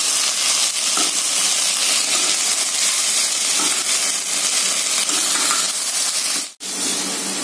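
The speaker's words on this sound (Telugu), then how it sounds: "కొత్తిమీర, పుదీనా అన్ని కలిపి బాగా ఫ్రై చేయాలి." Coriander and mint leaves frying in a pan, a loud, steady, close sizzle and hiss that runs throughout with only a brief dip near the end.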